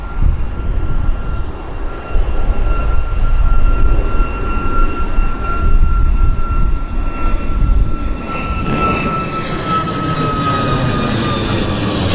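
A Convair 580 airplane climbs out after takeoff at Vancouver Airport, a loud, continuous droning engine roar with a steady whine, heard from a distance for the full stretch without talk.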